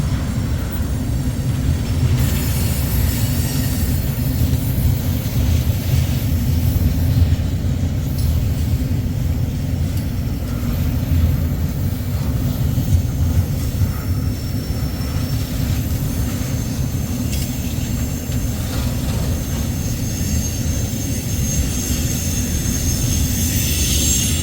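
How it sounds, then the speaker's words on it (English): A heavy freight train rumbles steadily past nearby between Council Bluffs and Sioux City, a constant low roar of wheels and cars on the rails with faint higher squeals, no voices. "yeah, this one's a big train for the Council Bluffs to Sioux City."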